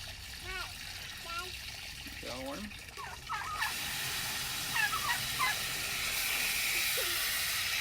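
Several turkeys gobble in short warbling bursts at moderate distance on a backyard farm, over steady outdoor hiss and running water from a hose.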